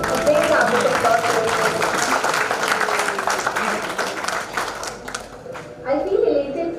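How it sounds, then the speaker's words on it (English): A conference audience gives a big round of applause, a thick burst of clapping close by that fades toward the end before a brief second swell, with a voice speaking faintly underneath. "Big round of applause."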